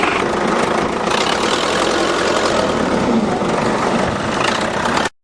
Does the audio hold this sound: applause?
no